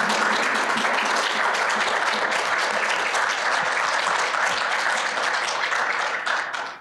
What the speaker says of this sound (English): Give these panelists another round of applause.